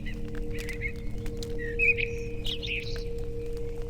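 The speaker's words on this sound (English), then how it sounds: "Why are there so many crows in the churchyard?" Birds call in a churchyard in The Lost Crown, a scatter of short chirps and squawks over a steady low hum, with the loudest cry near the middle.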